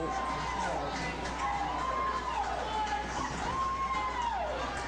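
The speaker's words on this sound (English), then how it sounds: "People are cheering them on." A crowd outside a home dairy in Ithaca, New York, cheers and calls out as Hillary Clinton emerges. The noise is steady and moderately distant, with rising and falling shouts and a reporter's voice over it.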